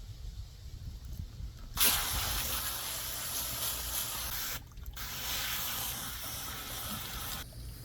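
A hose sprays water onto a green, algae-coated pool filter, giving a loud hissing rush that starts abruptly and drops out briefly twice, with no voices.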